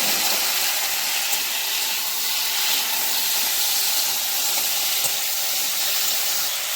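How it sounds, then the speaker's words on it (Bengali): Tomatoes go into a pan of frying potatoes for a spicy chorchori, setting off a loud, steady, close sizzle that hisses evenly throughout with no talking. "এবারে টমেটোগুলো এর মধ্যে দিয়ে দিচ্ছি।"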